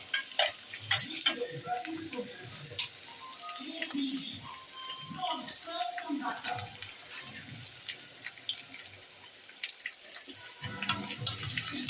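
Ginger garlic paste sautéing with softened onions for a country chicken curry makes a soft, uneven sizzle with scattered stirring scrapes, while a voice talks over it throughout.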